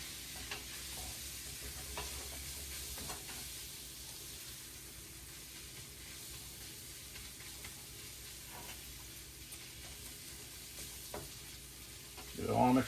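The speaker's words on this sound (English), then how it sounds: "we're going to stir this around until we get all the sausage coated" Sausage and flour sizzle softly in a pan over medium heat, a faint continuous hiss with occasional light scrapes of a stirring spoon and a louder clatter near the end.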